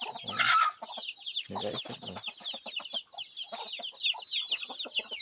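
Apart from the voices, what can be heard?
Palawan native chickens clucking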